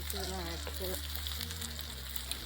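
Potato paratha sizzles in oil on a hot pan, a steady close frying hiss running throughout with a brief voice or clatter partway.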